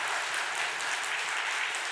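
A church congregation applauds steadily during a Sunday service, a dense even patter of many hands clapping throughout the short moment.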